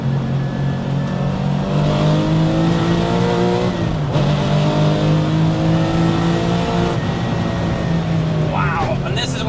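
A Gunther Werks restomod Porsche 993 engine revs hard toward 8,000 RPM, climbing to a high-pitched scream, dropping briefly between gear shifts, loud and sustained with voices faintly underneath.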